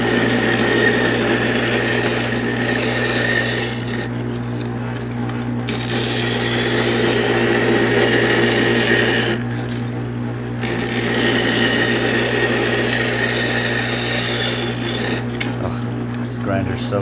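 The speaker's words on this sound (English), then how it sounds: "Grinder's so good." An air plant holder is worked with a grinder: a loud, steady, harsh grinding whine that runs continuously, broken by three short pauses where the abrasive rasp drops away before resuming, with no talk.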